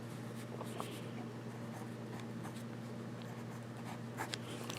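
Fine-nib German student fountain pen scratching across paper, soft close strokes with small taps and pauses over a low steady background hum.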